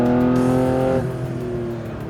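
Porsche 911 Theon Design coupe with its exhaust switched to the noisy setting, a loud close idle-to-rev burble with a strong harmonic tone that drops to a lower, steadier note halfway through.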